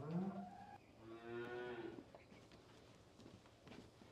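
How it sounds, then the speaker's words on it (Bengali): A large dairy cow moos once, a long drawn-out low call, close by, with faint farm background noise before and after. "বিশাল গরু"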